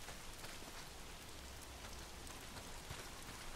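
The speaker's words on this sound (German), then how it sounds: "Wieso regnet es andauernd?" Steady rain in the Days Gone video game, a dense continuous hiss of falling drops pattering on surfaces, even and unbroken with no voices.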